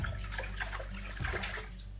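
Water pours and splashes over a synthetic Raquel Welch Upstage wig with a hand-tied cap as it is rinsed with wig shampoo, giving a steady, close wash of running water for the whole stretch.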